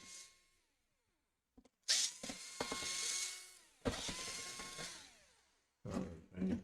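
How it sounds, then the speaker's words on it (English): A screwdriver backs screws out of the underside of a Clevo P650 laptop, giving several bursts of close ratcheting, grinding turns separated by brief pauses and small clicks. "So we unscrew all the screws from the bottom."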